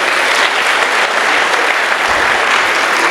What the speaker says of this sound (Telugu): వీళ్ళందరికీ ఒకసారి గట్టిగా చప్పట్లు కొట్టండి.